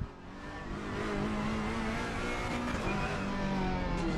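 Ferrari in a racing video game, engine droning and revving steadily upward with a rising tonal whine, loud and continuous after a brief start.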